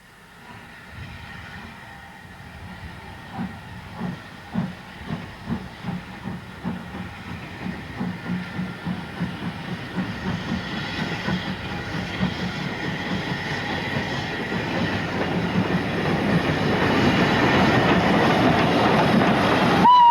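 A steam locomotive on a heritage moors railway chuffs away with rhythmic exhaust beats and hissing steam, then its wheels roll on the rails in a steady, growing rumble as the train gathers pace and passes close.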